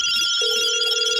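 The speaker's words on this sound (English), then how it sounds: "Oh, that was the phone." A telephone rings close and loud with a steady electronic tone that shifts pitch partway through, a single brief burst with no voices.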